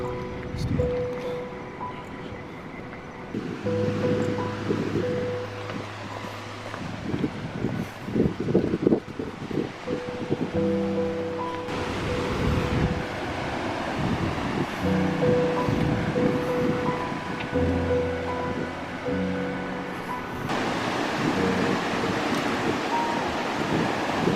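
Waves and wind on Jenny Dixon Beach at night: steady surf wash and heavy wind buffeting the microphone for the whole stretch, loud and close, with low rumbling gusts and no clear talk.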